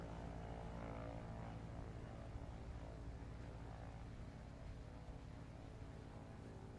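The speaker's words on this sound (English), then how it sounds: "That's going to be 162 on that takeoff for Mark Hawkins." A small Wilga 35P propeller airplane taking off during a short-takeoff competition in Microsoft Flight Simulator, with a steady loud droning engine and propeller roar holding throughout, no voices.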